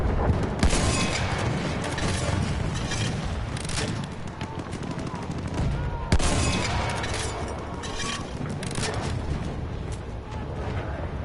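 A Battlefield 1 Operations battle: continuous loud gunfire and explosions, including a grenade blast, roar densely throughout, with one sharp crack standing out midway and a voice speaking under the din.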